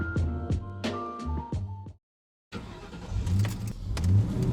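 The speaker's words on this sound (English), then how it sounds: "The car is flipping" A car engine in the Roblox Booga Booga game revs in short tonal bursts, cuts out briefly, then returns rougher and louder with rumbling thuds.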